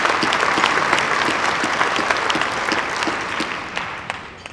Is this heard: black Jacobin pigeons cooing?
no